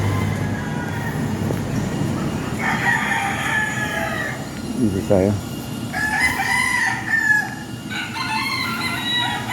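A rooster crows several times in a morning neighborhood beside parked vehicles, the harmonic calls rising loud and clear at intervals over a steady low background rumble, with a brief spoken word in between.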